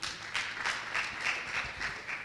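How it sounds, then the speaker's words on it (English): Moderate applause from an audience at a business seminar, fairly even, with the clapping rising and falling in soft waves and no voices over it. "Let's give her a round of applause."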